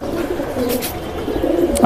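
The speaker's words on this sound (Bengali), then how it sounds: "ইটের ধাপড়িতে কবুতর পালে" Low, soft pigeon coos repeating close by from brick lofts, with faint rustling and a brief flutter at the end.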